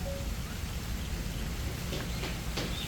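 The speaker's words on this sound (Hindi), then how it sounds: "बारिश का शोर आ रहा है ना।" Rain falls steadily around a home terrace, making a soft, continuous hiss with faint scattered patters and no voices.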